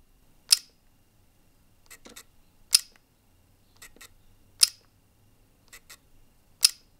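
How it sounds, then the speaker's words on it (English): Fujifilm X100 V leaf shutter clicks, recorded close in a quiet room: four crisp, sharp releases about two seconds apart, each with fainter softer mechanical ticks between them. "here's the sound of the X100 V"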